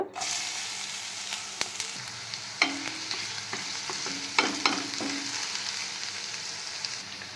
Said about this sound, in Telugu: ఆయిల్ అయితే వేడెక్కింది. ఇప్పుడు ఇందులో ఆనియన్స్ వేసుకుందాం.